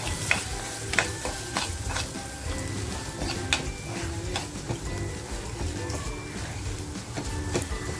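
Crisp sun-dried onion stirred into frying masala in a pan for a squid dish, with a constant loud sizzle broken by frequent spoon scrapes and clatters.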